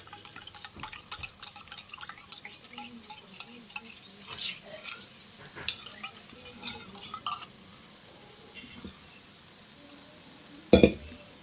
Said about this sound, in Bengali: আর একটু জল দিয়ে আমি একটু গুলে নেব এটা